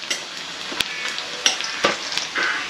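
Onions browning in a pan of oil give a continuous close sizzle, punctuated by sharp spatula scrapes and taps against the pan.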